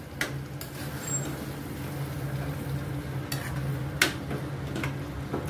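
Spinach dal is stirred in a pot, a low simmering bubble underneath occasional sharp clicks and scrapes of the spoon against the metal rim.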